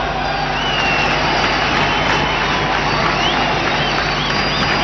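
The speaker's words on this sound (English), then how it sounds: "Oh, the crowd building up here." A large stadium crowd roars and builds in a steady, loud wash during a 1996 India versus Pakistan one-day cricket match at Sharjah, with no clear individual voices standing out.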